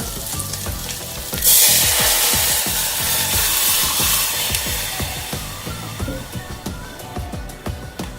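Turmeric, ginger and curry leaves crackle and sizzle loudly in hot tempering oil, with a sharp burst as they hit the pan, then steady frying and repeated stirring scrapes, no talk.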